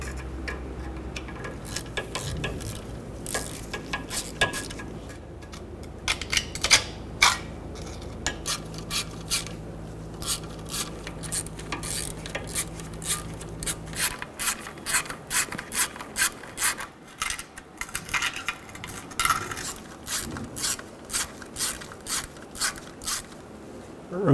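A metal pick scrapes rust from an oil pan bolt on a 2010-2014 Subaru Outback 2.5L H4, producing short irregular scratching strokes and small clicks up close, with a low hum fading out partway through and no speech.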